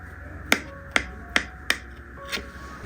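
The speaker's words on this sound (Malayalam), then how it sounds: "ഇനി വട്ടയപ്പം ഇഷ്ടമുള്ള ഷേപ്പിൽ ഒന്ന് കട്ട് ചെയ്തെടുക്കാം" A knife slices through soft, steamed vattayappam rice cake, making four sharp, close clicks at a steady pace and then a softer fifth tap in a quiet kitchen.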